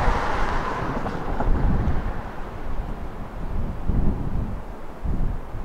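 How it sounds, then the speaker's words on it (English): Strong gusting wind buffets a camera mic on a heavy tripod outdoors during a storm with winds near 70 mph, a loud continuous low roar swelling and easing in waves with no voices. "The wind is moving my camera, and I have it on a heavy tripod. That's how windy it is here."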